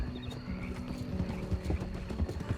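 Horse hooves clip-clopping in the Red Dead Redemption 2 video game, a quick irregular run of soft thuds at moderate distance, with no talk.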